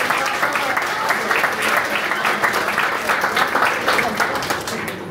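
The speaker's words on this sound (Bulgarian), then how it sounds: "Искам да бурни аплодисменти за моята Снежанка, моята асистентка" Audience at a school Christmas event clapping steadily, dense and sustained, with cheering voices mixed in before it fades slightly at the end.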